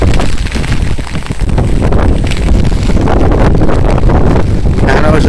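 Strong wind roars steadily across a Bangladeshi village just after a rain storm has passed, a dense, continuous gusting rush with no rain and no talk.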